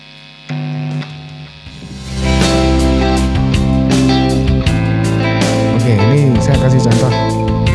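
Electric guitar played through distortion, a sustained harmonically dense tone with bends and picked notes over a steady hum, fairly loud and close, improvising without speech.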